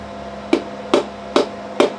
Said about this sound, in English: Okay, now we just tap it home. I like to use the plastic end of this hammer.